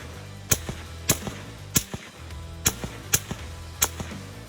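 Six sharp rifle reports from a Lithgow LA105 on a 100 m range, spaced roughly half a second to a second apart, each a loud crack with a short decay, with no talk.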